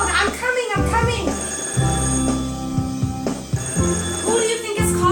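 An old-style telephone bell rings in repeated bursts through a home play session for a parent and child, steady and close, with voices talking over it.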